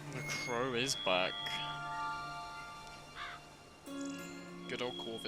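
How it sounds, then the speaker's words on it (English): Crow caws in The Witcher 3: Wild Hunt, Blood and Wine, heard as a few harsh calls amid game music and spoken dialogue, standing out between lines of talk. "The crow is back."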